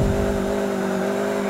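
A car engine in GTA IV on PC drones loud and close as it drifts, holding a sustained high rev with a steady tonal whine and no pause.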